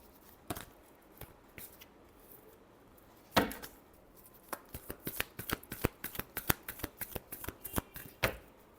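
Tarot cards are shuffled by hand in quiet, close riffles and soft slaps, a few isolated snaps early on, then a quicker run of crisp flicks toward the end.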